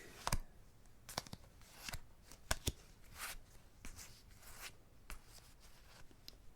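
Playing cards are dealt one by one: sharp papery flicks and snaps at irregular intervals, some louder, with soft rustling between them.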